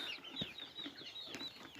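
Faint, high chirping peeps from a group of chicks, repeated in quick irregular bursts with soft rustling and clucks nearby.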